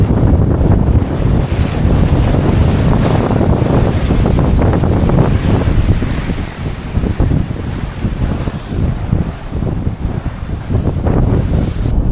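A strong sea breeze on Beachport Jetty, South Australia, buffets the microphone in a constant loud roar, with ocean waves washing faintly beneath it and no voices.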